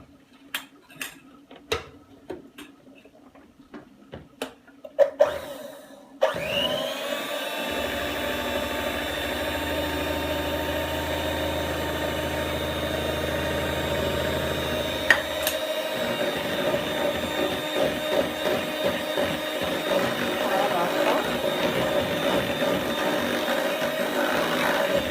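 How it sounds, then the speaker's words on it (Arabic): An electric mixer beats cake batter in a bowl. A few clinks of utensils come first, then the motor starts up and runs steadily with a constant whine and a rattle against the bowl. "دابا غادي نبدا نطرب وندير."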